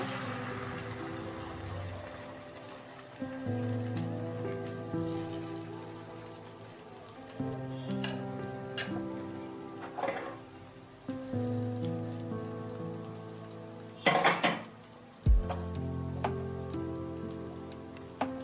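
Oats and egg batter poured into hot oil for a healthy breakfast, a continuous hissing sizzle like rain on a surface, with sustained tonal sound running beneath it.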